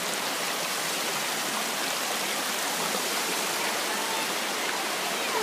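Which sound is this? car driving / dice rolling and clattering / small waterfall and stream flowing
small waterfall and stream flowing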